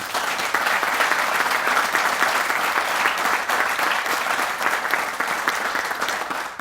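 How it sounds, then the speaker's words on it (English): An audience at a college groundbreaking ceremony claps in a dense, steady burst of applause that holds loud for several seconds before thinning slightly at the end. "Let's give them a big round of applause."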